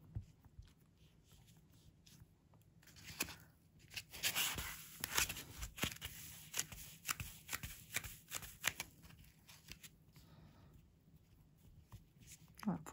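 Material for a handmade mushroom craft is cut in a run of crisp, rapid snips and rustles, close and fairly loud in the middle, with a person talking around the cutting.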